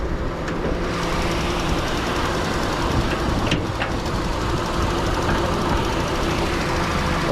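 A 2019 Proton Saga 1.3 Standard CVT engine runs steadily in a dense, rushing noise that stays at an even level throughout, with no talk.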